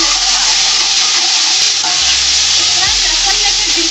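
Steady, loud sizzling of garlic frying in hot ghee, a dense continuous crackle with a few soft stirring knocks and no talking.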